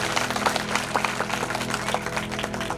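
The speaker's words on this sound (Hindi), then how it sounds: "जोरदार तालियां बजा दो आप सभी को।" Listeners at a religious katha on Nani Bai ka Mayra break into loud applause, a close, rhythmic clapping with distinct hand strikes over a steady hum of sound in the hall.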